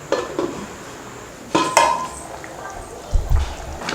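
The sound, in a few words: lid being placed on a cooking pot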